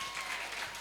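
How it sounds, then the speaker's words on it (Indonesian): Audience applause for Bu Ratna at a school career-preparation talk, a short burst of continuous clapping at moderate level with no voices over it. "Tepuk tangan sekali lagi untuk Bu Ratna"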